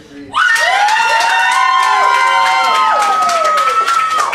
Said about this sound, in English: Clap for who you want to win.